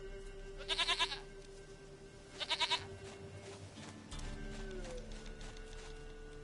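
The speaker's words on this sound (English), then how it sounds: "Goat of mine, dearest, sweetest goat." A goat in a video game bleats twice in short, quavering bursts, fairly close, followed by low ambient game sounds and a faint rumble.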